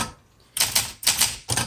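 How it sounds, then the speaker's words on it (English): Keys struck on a 1965 Olympia SM8 manual typewriter: three sharp, loud clacking bursts in quick succession after a brief quiet start, close and crisp. "Oh, these keys are easy to type on."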